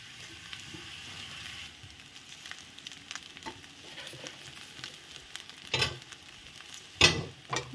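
Fried rice mixture with sugar being stirred and fried in a pan, a soft steady sizzle with scraping stir strokes and a couple of sharper clanks of the utensil near the end.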